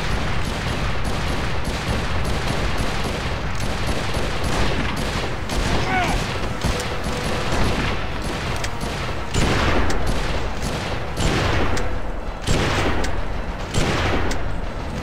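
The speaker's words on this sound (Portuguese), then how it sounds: "os caras têm metralhadora" Machine gun fire in the video game GUN, dense bursts of rapid shots and booming gunfire repeating throughout, loud and continuous, with a player's voice briefly audible beneath.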